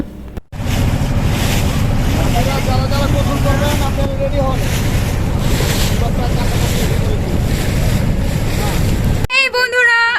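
A boat cruises across Tanguar Haor wetland in Sunamganj, its steady engine rumble and water rush mixed with heavy wind buffeting the microphone, loud and continuous until it cuts out near the end.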